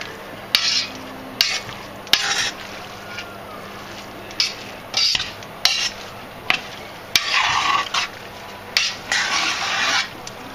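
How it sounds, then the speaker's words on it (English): A spoon scraping and stirring turkey and leek pie filling in a pot on the heat: repeated short metallic clinks and scrapes in an uneven rhythm, close and clear. "Back on the heat, stir that through"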